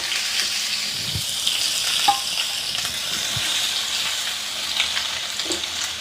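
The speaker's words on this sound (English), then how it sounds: "we're going to cook up some onions and peppers" Onions and peppers fry in a pan with a steady, fairly loud sizzle that runs throughout, broken by occasional soft scrapes and knocks from stirring, with no voices.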